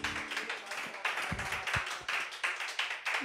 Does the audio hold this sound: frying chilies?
no